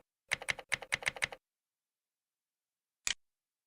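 Quick, regular keystrokes on a computer keyboard rattle for about a second as a word is typed, then one sharp final key tap lands after a pause in an otherwise silent room.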